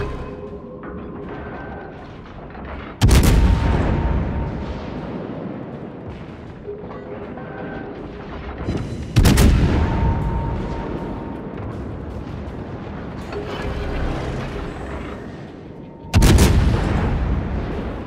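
Tank video game battle with three loud, sharp artillery blasts spaced several seconds apart, each trailing into rumbling gunfire and engine noise between them.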